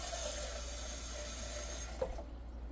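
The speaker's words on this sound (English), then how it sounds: "A quick rinse." Tap water runs steadily over an old bread tin being rinsed in a kitchen sink, a continuous hiss that cuts off near the end with a brief clunk.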